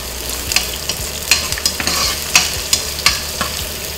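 Onion sizzling in a hot pan for pork binagoongan, a dense steady crackle with regular clinks and scrapes of a utensil stirring, close and loud without any voices.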